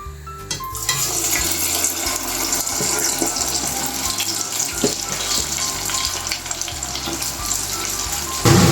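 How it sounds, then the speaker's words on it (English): Eggplant pieces deep frying in hot oil make a loud, steady, dense sizzle and bubbling that runs the whole time, close up, with a soft low musical bed underneath and no voices. "we just want to deep fry the eggplants in the oil for about 1 minute"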